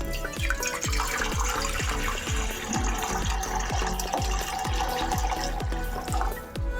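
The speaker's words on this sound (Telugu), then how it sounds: "ఇందులోకి మనం కొద్దిగా నీళ్లు వేసుకోవాలి." Water pours in a steady stream into a bowl on the stove, with a regular series of splashing knocks underneath and a continuous gurgle, close by.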